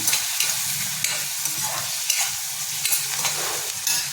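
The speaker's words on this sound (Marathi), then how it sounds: "ह्याला सुद्धा मंद आचेवरती थोडंसं परतून घ्यायचं, एकदम गॅस मोठा करायचा नाही" Onion and tomato sautéing in a pan over a low flame, a continuous close sizzle with regular spatula stirring scrapes and light knocks, no talking.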